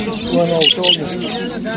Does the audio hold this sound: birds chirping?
yes